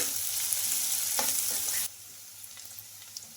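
Vegetables sautéing on high flame for homemade wheat noodles, a loud hissing sizzle with a few stirring clinks that drops suddenly to a quiet low sizzle partway through.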